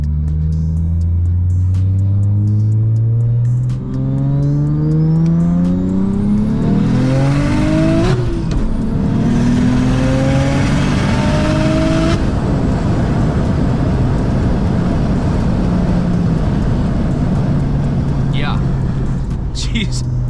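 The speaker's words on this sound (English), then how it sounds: "I'll give you guys a second gear pull here, just so you can see how much jam this thing is making right now" Single-turbo BMW 335 pulling hard through second gear, its engine note climbing steadily in pitch, then a shift and renewed acceleration with loud, close, continuous roar and road noise for about twenty seconds.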